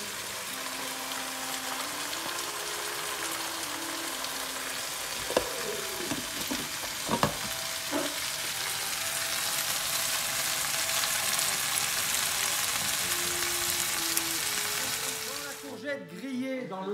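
Organic courgettes sizzle steadily in a pan, a constant broad frying hiss close by, broken midway by a few clinks and stirring sounds, then cut short by a clatter at the very end.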